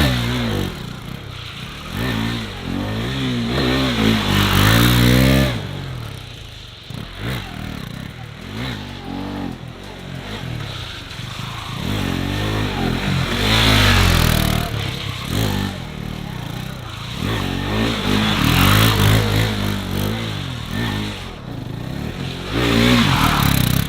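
A 2022 KTM RC390 motorcycle engine revs in bursts during drift attempts on grippy tires, rising and falling with loud throttle blips and some scraping clatter, moderately close.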